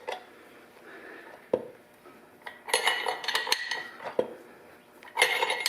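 Gears of a Jeep NSG370 transmission turned by hand produce irregular metallic clinks and light rattles. The bursts of clatter are close, separated by brief quiet pauses.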